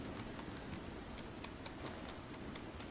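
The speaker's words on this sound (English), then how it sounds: "It's extremely hard to keep a fire lit in the rain if you're getting it started in the rain." Steady rain pours down in The Walking Dead video game, a dense, continuous hiss of drops on surfaces with no let-up, heard alone without any voices.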